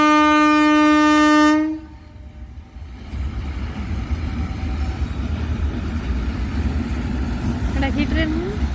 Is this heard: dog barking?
no